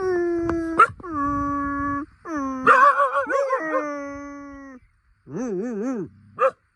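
A dog whines and whimpers in long, drawn-out, wavering tones, nearby, with short pauses between cries.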